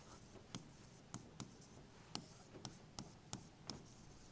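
Pen or chalk strokes on a board or paper during a data interpretation lesson, heard as faint, separate scratchy taps and short strokes spaced irregularly and alone against a quiet background.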